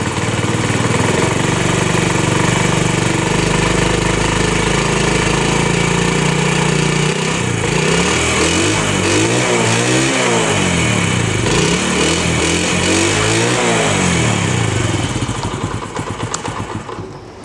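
A motorcycle engine runs loud and close after a kick start during a pulser coil check, holding a steady idle before turning uneven and pulsing, then fading at the end.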